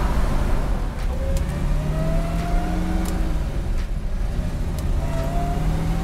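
A 1969 COPO Camaro replica with a 427 engine pulls hard through its gears, a steady loud engine drone rising in pitch, dropping at each shift and climbing again, heard from inside the car over road noise.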